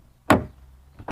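A Volkswagen Golf Mk8 Clubsport door opens with one short, close clunk, followed by a quieter second sound at the end, with no talking.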